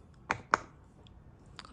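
A pop-it silicone fidget toy being pressed up close: three sharp, quiet pops spaced unevenly, two close together and one a moment later, with no talking.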